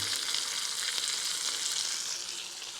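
A steak fries in a hot pan with a loud, continuous close-up sizzle, hissing evenly and fading slightly toward the end.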